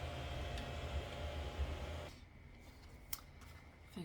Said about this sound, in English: Boyfriend's got something on the go with his 3D printer.